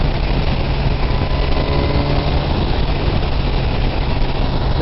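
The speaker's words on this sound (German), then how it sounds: "Und auch hier in der Versus läuft der Motor einfach richtig geschmeidig." A Kawasaki Versys 1000 SE motorcycle cruising in sixth gear gives a smooth, continuous engine drone under heavy, steady wind rush, loud and unbroken with no talking.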